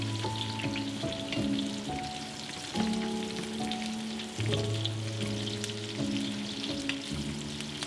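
Onions in big chunks, garlic cloves, curry leaves and dried red chillies frying in a pan for a South Indian dinner: a steady, moderate sizzle under soft background music, with no talk.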